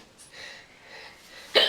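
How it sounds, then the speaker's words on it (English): An intoxicated young woman hiccups, with faint breathy sounds followed by one sharp, close hiccup near the end. "Fucking hiccups, dude."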